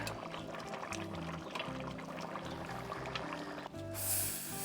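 Fish stew of cod and broth with doughboys poured into a pot, a steady liquid splashing and gurgling pour running throughout, fairly close and continuous with a brief change near the end.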